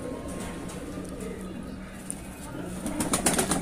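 Shahjahanpuri breed pigeons coo softly in a loft in Bareilly, a low steady murmur with faint background chatter, growing a little louder toward the end.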